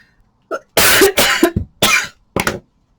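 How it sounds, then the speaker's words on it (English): Several harsh coughs in quick succession, close and loud, with short gaps between bursts and a softer cough at the end. "I'm going to start coughing."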